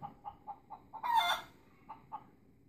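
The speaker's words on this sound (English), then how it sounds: "it just showed us what the sound a chicken makes would be" Clucking chicken sound effect in the Math Trek educational video game, a run of short evenly spaced clucks, then a louder squawk or brief crow, then two more clucks, clear and up close.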